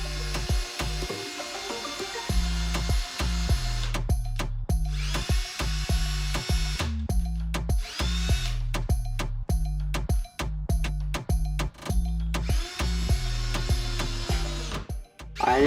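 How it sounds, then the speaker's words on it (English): A power drill drives screws into a wooden beam for a homemade bike repair stand, whirring in repeated bursts that rise and stop with short pauses between, close and loud. "you just have to drill them in"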